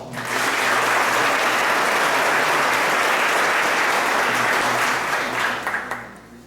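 Loud, sustained applause from a sizable crowd, steady for about six seconds before tapering off at the end.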